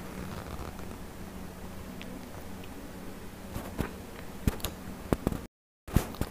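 Scissors cutting through blouse fabric and lining, a series of close, crisp snips and slight creaks that grow more frequent toward the end, quiet overall with a brief dropout.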